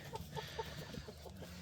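Several chickens newly brought to a farm cluck in short repeated bursts, fairly close, over a steady low background hum with no talking.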